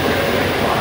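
An Italian Intercity express train produces a loud, continuous rumble and roar at close range, with no voices over it.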